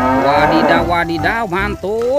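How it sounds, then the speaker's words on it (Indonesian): A toy's recorded cow moos in a few long, wavering calls, loud and close, while a person talks excitedly over and between them. "Yang ini ada hewan sapi teman-teman."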